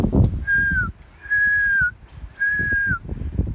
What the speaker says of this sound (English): If you whistle, it'll bring the wind.